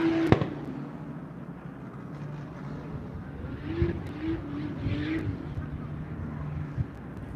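Nissan S13 drift car fitted with a 2JZ engine at a Cyprus drift practice track, a steady engine drone with shifting revs and a sharp pop near the start, heard at moderate distance with faint voices in the background.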